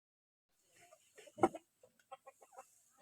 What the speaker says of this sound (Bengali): আসলে আমরা এই মুরগিগুলো একদম ছেড়ে দিয়ে পালন করে থাকি তার জন্য সবগুলা মুরগি একত্রিত হইতেছে না